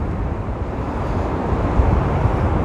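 Storm waves rolling onto the central beach at Anapa in strong wind, a dense, continuous roar of surf with heavy wind rumble on the microphone, loud and close.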